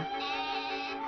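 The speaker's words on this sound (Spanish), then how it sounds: "Oveja." A single sheep bleat, brief and loud, heard alone and close up.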